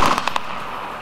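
T-80 tank guns firing shells in a training video: a rapid burst of three or four sharp, loud blasts in under half a second, followed by a fading rumble.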